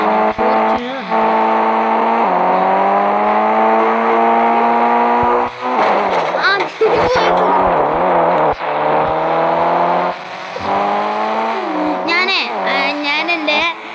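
Engine revving of a Toyota Fortuner in a video game, a sustained rising and falling drone with shifting pitch, loud and continuous with brief breaks throughout.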